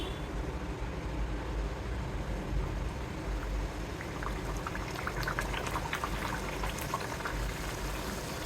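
Puris frying in hot oil, a steady dense bubbling and crackling that runs throughout, close and moderately loud, with no talk.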